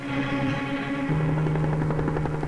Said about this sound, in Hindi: ये हेलीकॉप्टर